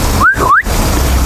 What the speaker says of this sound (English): I just heard a strange whistle in that direction